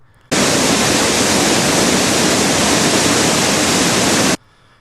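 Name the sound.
loud waterfall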